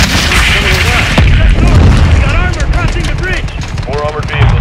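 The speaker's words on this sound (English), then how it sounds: "Got an incoming missile." Missile strikes and explosions in Call of Duty: Modern Warfare II, loud booms and gunfire-like bursts rolling continuously under radio chatter voices.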